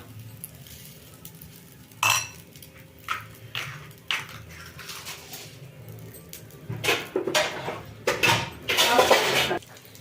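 A metal lid is set onto a cooking pot on the stove with a few sharp clanks and clinks, then more rattling pot and utensil contact, close and fairly loud against a low background hum.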